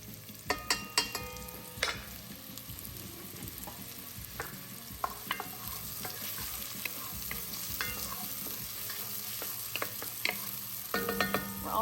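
Onion fries and sizzles in a pan on the stove as a utensil stirs and scrapes, sending sharp clicks over a steady frying hiss, close and fairly loud, with no one speaking.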